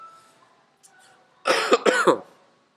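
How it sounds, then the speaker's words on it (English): A burst of harsh coughing, three or four rapid coughs close to the mic, after a quiet stretch with faint background noise. "So bear with the coughing."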